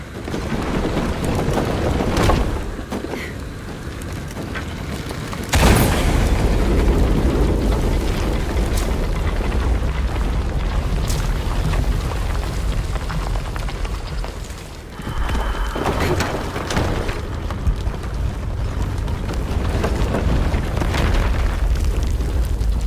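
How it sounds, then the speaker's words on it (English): Explosions in the video game Shadow of the Tomb Raider, loud booming blasts at intervals over a continuous heavy rumbling, roaring bed of debris and water-like noise. "Another explosion would raise the platform."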